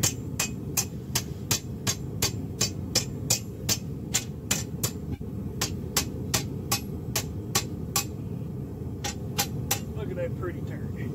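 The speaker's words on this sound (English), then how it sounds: "as much as, you know, you can be gentle with smacking rebar with a hammer." A two-pound hammer strikes hot rebar in a steady, sharp metallic rhythm, roughly two blows a second, loud and close over a constant low roar of shop noise, with a short pause before the strikes resume.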